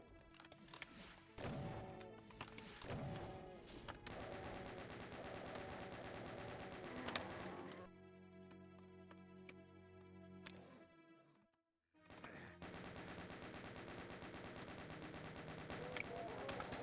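Video game gunfire on a RAMP map, with rapid automatic bursts and single shots firing in quick runs, a brief silence near the end, then more sustained shooting, loud and dense with no talk.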